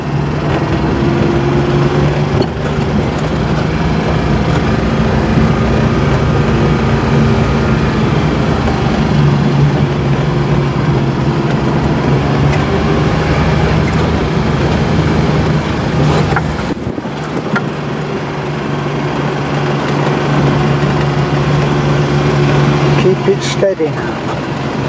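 A car engine drones steadily and close during a driving lesson, a constant low hum running under people talking.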